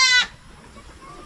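A newborn goat kid, just delivered on a farm, gives one short, clear, close bleat that cuts off quickly, leaving quiet background.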